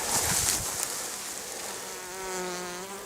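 Bees buzz steadily in a dense, close drone while foraging on flowering riverbank plants, with a higher mechanical whine from a petrol brush cutter rising in the background partway through.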